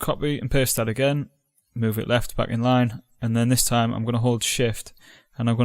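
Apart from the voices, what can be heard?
No everyday noise stands out behind the speech.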